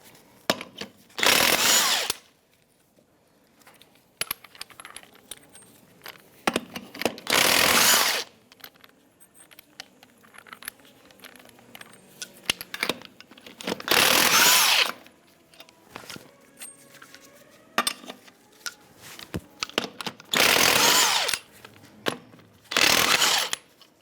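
Power tools working loose the lug nuts to remove the tire from a 1992-1996 Ford F-150. They come as about five loud, close whirring bursts separated by quiet gaps with faint clicks and handling noise.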